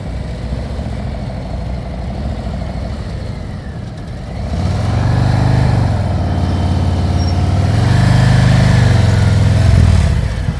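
A motorcycle engine rumbles low and steady at slow riding speed, then swells into a louder, throaty rev that holds and surges again, close and continuous, with no voices.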